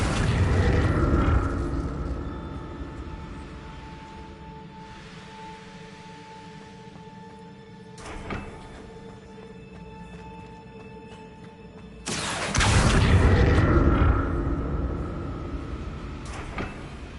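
A magic spell burst in a fantasy video game, with loud whooshing blasts at the start and near the end and a quieter hum between them, plus a sharp thump in the middle.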